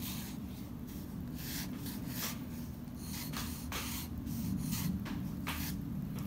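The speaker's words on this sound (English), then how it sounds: "now I'm going to sketch out a rectangle that has the same proportions" Pencil scratching on paper while a rectangle is sketched, with a series of short rubbing strokes in an uneven rhythm, close and fairly steady.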